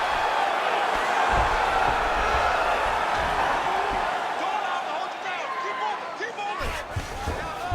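A video game arena crowd in EA Sports UFC 5 roars loudly and steadily through a Mike Tyson vs. Todd Duffee bout, swelling with cheers and thinning slightly near the end, with voices talking over it.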